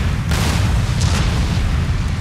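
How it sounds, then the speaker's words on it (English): Artillery fire in the video game Empire Total War booms a couple of times over a loud, rumbling battle din. "At least our artillery is still making the most of the situation."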